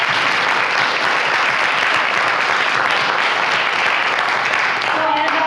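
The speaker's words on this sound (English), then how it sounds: "Let's give them another big round of applause." Sustained audience applause for a panel at an event, steady dense clapping from a large crowd throughout, with a brief voice surfacing near the end.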